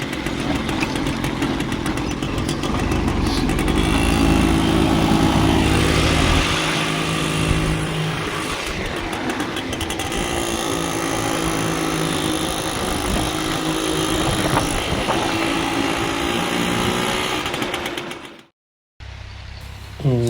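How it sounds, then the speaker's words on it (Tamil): A tractor drives a rotavator tilling a farm field, a loud, steady diesel engine drone with rumbling and clattering throughout, then a short gap near the end. "இப்போ கிட்டத்தட்ட பார்த்திங்கன்னா ரொட்டாவேட்டர் ஓடிட்டுருக்குது, நீங்களே பார்க்குறீங்க."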